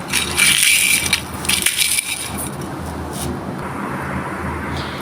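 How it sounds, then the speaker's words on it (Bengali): Chilies and onions being mashed together by hand with salt, giving wet crushing and squelching noises, loudest early and then softer and steadier, close up with no talking. "তো আমি মরিচ পেঁয়াজগুলো সব একসাথে ডলে নিচ্ছি"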